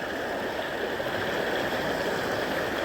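A stream of water flows steadily, a continuous close rushing and gurgling with no pauses, alone without voices.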